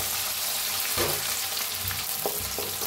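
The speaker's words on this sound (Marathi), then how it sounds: "आता मिरची चेचून घेतलेली लसूण आणि मिरची भाजून घेऊया, मिक्स करून भाजून घेऊया।" Crushed garlic and green chillies fry in hot oil in a pan, giving a steady close sizzle with a few stirring scrapes throughout.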